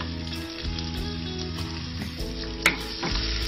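Chopped garlic with turmeric fries in a pan for a Bengali bata fish curry, a steady soft sizzle under a low kitchen hum with occasional stirring knocks and one sharp clink.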